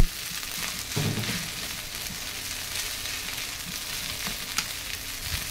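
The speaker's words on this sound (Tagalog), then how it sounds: "Fried rice, gisa lang tayo ng chorizo de belbao, then egg, carrots" Fried rice sautéing in a pan with chorizo de bilbao, egg and carrots, a continuous close sizzle with a few soft stirring scrapes and taps, no one speaking.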